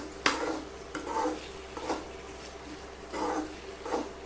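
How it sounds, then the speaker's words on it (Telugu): Potato pieces fry in a pan over a village cooking fire, with a low sizzle under repeated scraping stirs of a utensil against the metal and occasional sharp clinks, close by. "బంగాళదుంపలు వేసి వేపుతానండి."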